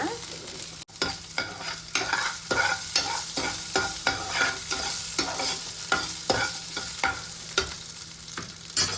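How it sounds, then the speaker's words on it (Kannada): Ginger and garlic sizzle in hot oil with fennel seeds, a steady crackling fry broken by regular scraping strokes of a spoon stirring the pan, close and fairly loud with no voices. "ಜೊತೆಗೆ ಈರುಳ್ಳಿ ಅಲ್ಲ, ಇದು ಶುಂಠಿ, ಇದನ್ನು ಹುರ್ಕೊಳ್ಳೋಣ."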